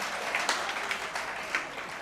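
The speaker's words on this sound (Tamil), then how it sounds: "அதுக்கே ஒரு கைத்தட்டு கொடுக்கணும்." Audience clapping at a live Tamil stage talk, a short steady patter of many hands with a few sharper peaks, fairly soft and without speech.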